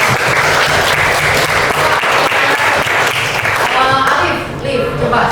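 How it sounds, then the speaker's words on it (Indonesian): A class applauds a group of students, a dense, steady wave of clapping that fills the room for several seconds before thinning slightly near the end. "tepuk tangan buat mereka"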